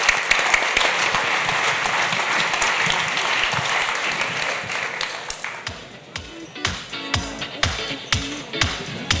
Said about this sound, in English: let's give these ladies another round of applause for that riveting discussion